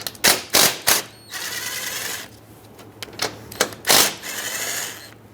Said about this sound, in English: there are two 13mm mounting nuts that we have to remove